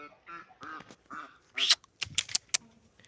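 Several nearby Muscovy ducks give short, raspy quacks and hisses in quick bursts, with a brief break between calls.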